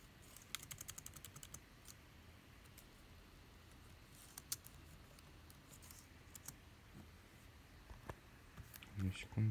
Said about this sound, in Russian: Проверим работоспособность клавиатуры.